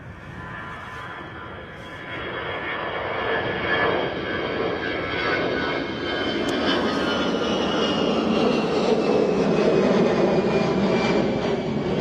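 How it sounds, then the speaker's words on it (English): Loud Airbus jet engines roar steadily, swelling as the aircraft approaches Bristol Airport in a crosswind, a broad rumbling wash with no one talking. "Hear the airbus engines roaring as they come towards us."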